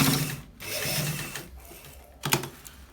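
A sewing machine stitching the V-neck of a men's kaftan, running in a few mechanical bursts with clicking, whirring pauses between runs and a sharper clatter near the end.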